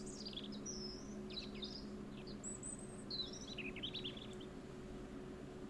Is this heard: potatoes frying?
no